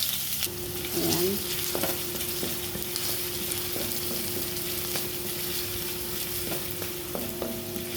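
White onion sautéing in a pan for an eggplant roll sauce, a steady close sizzle throughout with a few soft stirring scrapes and no voices.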